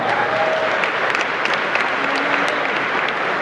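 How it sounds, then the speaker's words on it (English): An audience at a large Yu-Gi-Oh championship tournament in Long Beach gives a round of applause: dense, steady clapping from many hands that holds evenly throughout. "Let's give him a round of applause, everyone"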